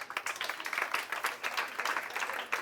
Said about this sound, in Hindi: अच्छा अब इनके लिए तालियां।